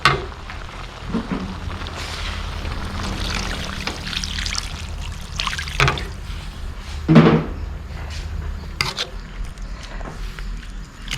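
Water is poured into a pot of Thai red curry with pork belly, pork ribs and ficus tree leaves, a continuous splashing trickle with a few louder sloshes and clinks nearby.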